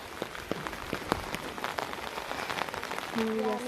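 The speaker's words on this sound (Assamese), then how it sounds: "বৰষুণ দি আছে, চিপচিপীয়া বৰষুণ" Light drizzle falls at night on a muddy road, a soft, dense patter of drops close by, with a short tonal beep near the end.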